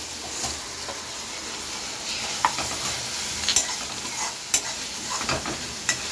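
Tomato rice with chicken masala is stirred in a pan over a soft steady sizzle, with repeated sharp spoon scrapes and clinks against the metal, close and clear, no voices.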